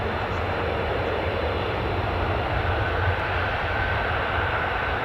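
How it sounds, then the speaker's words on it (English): F-35 fighter jets taxiing at RAF Lakenheath, home of the 48th Fighter Wing, give a steady, broad engine roar that holds at an even level throughout, sounding moderately distant with no talk over it. "the F-35s are on the move."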